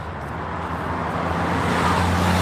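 Steady road traffic on a countryside walk, a continuous broadband rumble of passing cars that grows slightly louder and nearer over the short stretch, with no voices.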